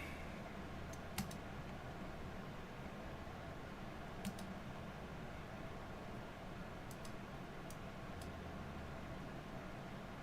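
Computer keyboard typing and key mashing picked up by a streaming microphone during a game session: steady faint clicking under a constant fan-like hiss, with a few sharper key clacks standing out, no voices.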